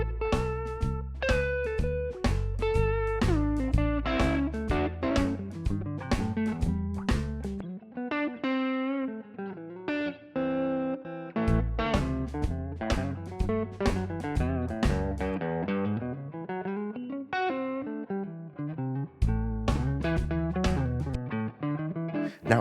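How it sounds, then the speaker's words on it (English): An electric guitar plays a continuous bluesy solo inside an A blues backing track, melodic phrases and bends riding over steady band accompaniment, loud and full, no talking. "you are going to play along to an A blues backing track"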